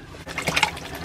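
A short burst of splashing and sloshing water as fruit is washed, close and moderately loud, lasting about a second.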